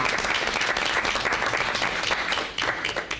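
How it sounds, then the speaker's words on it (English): An audience claps steadily at a district staff meeting to honor its staff members of the month. The dense, sustained applause is close and loud and tapers slightly at the end. "We want to give them all a hand."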